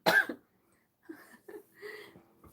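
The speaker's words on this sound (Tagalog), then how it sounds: "Hala, inuubo ako." A woman coughing during a livestream: one sharp close cough at the start, followed by a few softer, shorter coughs and throat sounds after a pause.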